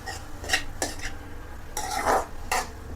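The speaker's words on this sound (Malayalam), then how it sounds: "സോയാബീൻ ചേർത്ത് ഒരു 2 മിനിറ്റ് നന്നായിട്ടൊന്ന് മിക്സ് ചെയ്യാം കേട്ടോ." Grated soybean stirred in a pan, a spoon scraping and clattering against the metal in several distinct strokes, close and fairly quiet, with no talking.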